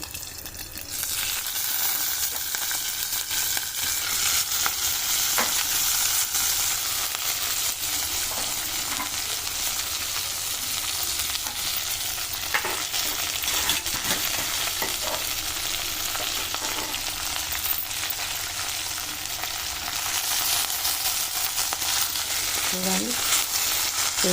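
Moringa (drumstick) leaves frying in a pan with garlic, giving a continuous close sizzle broken by occasional stirring scrapes for over twenty seconds.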